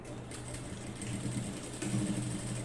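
A sewing machine stitches fabric for a simple nightie, giving a steady, fairly quiet mechanical whir with a low rhythmic hum that holds constant throughout.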